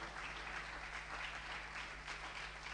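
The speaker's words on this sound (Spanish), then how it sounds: "Un fuerte aplauso." Church congregation applauding to welcome a first-time visitor during a Sunday morning service, a steady, dense wash of clapping that fills the whole moment without pause.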